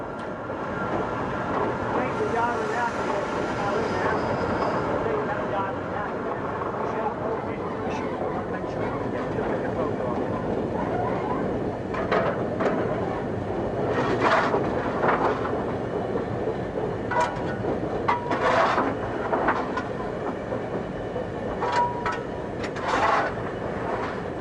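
An LMS express steam locomotive running on the line, a sustained heavy rumble and roar that builds toward the middle, with rhythmic rail clatter and a few sharp metallic bursts later on.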